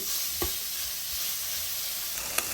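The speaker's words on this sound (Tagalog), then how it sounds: "Ang una ko palang ginagawa ay sinasangkutsa ko muna tong karne." Ground pork sizzling in a pan with no oil, a steady close frying hiss with a couple of faint stirring clicks.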